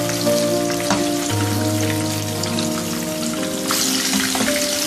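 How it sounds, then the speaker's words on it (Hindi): Chicken cheese balls deep fry in oil, giving a steady bubbling sizzle with fine crackles, heard close against soft background music. "साइडें तब्दील करते रहेंगे ताकि हर तरफ से अच्छे से गोल्डन फ्राई हो जाए।"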